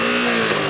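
A motorcycle revs hard in first gear, its engine note a loud, steady, close drone that stays strong and continuous through the brief moment.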